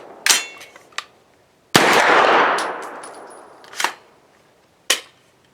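A pistol-caliber carbine fires sharp, close single shots spaced apart, with a longer noisy burst and clattering as a magazine drops free and hits the ground.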